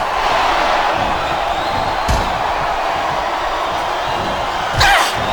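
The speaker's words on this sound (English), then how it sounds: "the crowd has come alive tonight with a chant directed at the superstars in the ring" A video wrestling crowd from WWE SmackDown vs Raw 2008 on PS2 roars in a steady, dense wall of cheering and chanting, with a couple of sharp impact thuds cutting through the noise.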